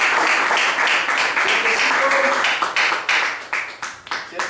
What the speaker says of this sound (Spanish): Dale de palmas